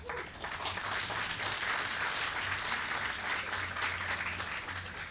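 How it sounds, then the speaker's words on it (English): An audience at a city's State of the City event breaks into sustained, even applause, a dense wash of many hands clapping that stays steady for several seconds before easing slightly at the end. "I'm not surprised you are clapping about the breweries"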